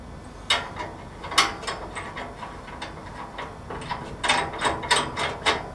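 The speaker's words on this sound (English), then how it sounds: "Gas connector simply goes on here." Gas connector being fitted onto a Blackstone 22 inch griddle, a series of close, sharp metallic clicks and ratcheting taps, sparse at first and then clustered toward the end.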